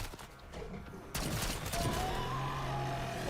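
Enemy fire rattles out in a video game, a dense burst of rapid shots kicking in abruptly partway through and continuing loud over a sustained tonal hum, with no talk.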